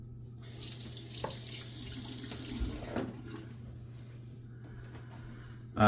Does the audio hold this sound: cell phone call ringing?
no